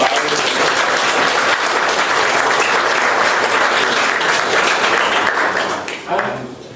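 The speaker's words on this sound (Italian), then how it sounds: "Un applauso a Paolo." An audience in Udine gives Paolo Medeossi loud, sustained applause, a thick even roar of many hands clapping close by that drops off abruptly near the end as a voice starts to speak.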